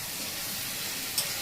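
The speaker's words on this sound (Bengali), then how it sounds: "এবার গ্যাসটা জোর করে দিয়ে কষিয়ে নিই" Spices sautéing in a pan over a high gas flame give off a soft, steady sizzle and hiss, faint and close, with a brief brighter crackle near the end; no one speaks.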